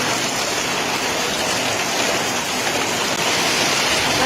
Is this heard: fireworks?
no